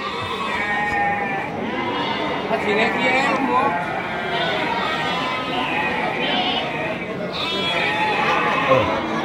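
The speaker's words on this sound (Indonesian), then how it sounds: "kita bisa lihat-lihat langsung terkini kondisi domba-domba yang ada di Pasar Wage Bumiayu" Sheep bleating at Pasar Wage Bumiayu livestock market, repeated overlapping bleats from several animals under a steady hubbub of crowd chatter and nearby voices.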